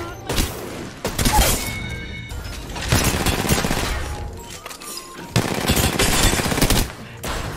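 Rampart firing bursts of automatic gunfire in Apex Legends, loud rapid volleys in several clusters separated by brief lulls, with game effects layered underneath.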